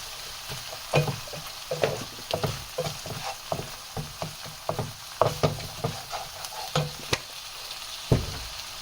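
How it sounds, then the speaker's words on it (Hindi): Spices sizzle in a hot pan for Sindhi paneer korma while a utensil stirs in a steady rhythm, each scrape giving a short crackling burst, close and alone. "और अब हम इस मसालों को इसमें अच्छे से पकाएंगे।"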